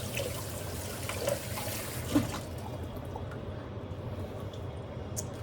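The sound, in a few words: washing hands under running water at the sink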